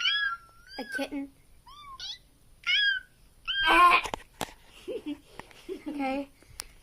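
A human voice mimics a kitten with several short, squeaky meows at uneven intervals, mixed with soft sniffs and breathy vocal noises close up.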